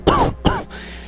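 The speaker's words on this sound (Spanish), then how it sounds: "Se lanzó a un ataque de tos." Two short, sharp throat-clearing coughs in quick succession, close and loud, followed by a faint breathy rasp.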